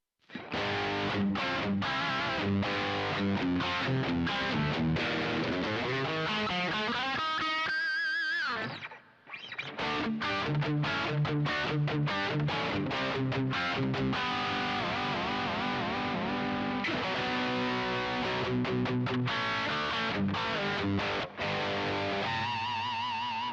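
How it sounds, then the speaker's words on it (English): Electric guitar chords and single notes play through a Hall of Fame reverb pedal at the end of a pedalboard chain, ringing with a lush, washy tail and one brief drop-out partway through. "The only thing you're hearing on this preset is going to be the Hall of Fame reverb"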